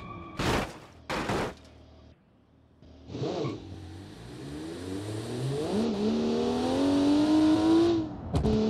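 Car engine in the BeamNG.drive driving game, with a few sharp thumps, then a rising rev that climbs steadily in pitch and grows louder while drifting, ending in a brief cutoff.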